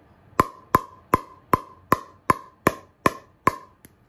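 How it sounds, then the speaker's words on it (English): Nine sharp, hollow pocks ring out at an even, quick rhythm as a Niupipo MX-36 pickleball paddle strikes a hard plastic outdoor pickleball, close and crisp, with no talking. "Let's go ahead and test out to see how this paddle sounds with the balls."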